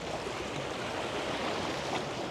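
Ocean waves wash steadily onto a quiet beach in Thailand, a continuous broadband rush of surf with no pauses, fairly close and even in loudness, with no voices over it.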